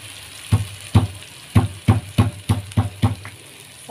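Kaffir lime leaves and bay leaves being sautéed in a pan for red bean gulai: a steady low sizzle with about eight sharp, evenly spaced stirring clacks of a utensil against the pan.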